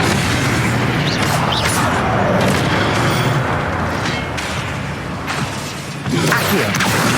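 Incendio fire spell bursts in the video game Hogwarts Legacy, loud booming blasts and rushing flame noise layered over dense combat din, with several sharp impacts across the stretch.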